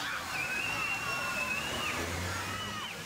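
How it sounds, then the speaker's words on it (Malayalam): Cold water jets from a fountain tower fitted with a large LED screen, a steady rushing splash that fills the whole stretch, with children's high voices and playful shouts over it. "തണുത്ത വെള്ളമാണ് ടവറിൽ നിന്നും ചീറ്റുന്നത്."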